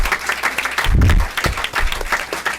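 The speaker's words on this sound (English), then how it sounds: "I do want to applaud them." An audience at a Board of Education meeting applauds teachers, with scattered hand claps rising into a brief swell of clapping and a low thump, uneven and moderately loud.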